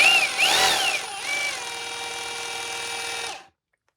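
A BAUER cordless SDS-Plus rotary hammer drill in hammer mode runs close by with a rapid buzzing rattle, its pitch wavering briefly as it loads, then it drones evenly and stops abruptly.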